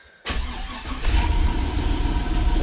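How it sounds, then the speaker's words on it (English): An LS1 V8 swapped into a Toyota Cressida cranks and catches after a brief silence, then settles into a loud, close, rumbling idle that swells slightly as it runs. "I'll just fire up the car."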